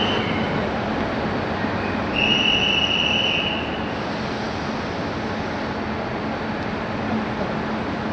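A Mumbai local train at Kalyan station gives a steady, loud rail rumble, with a brief high-pitched wheel squeal rising partway through; no one speaks.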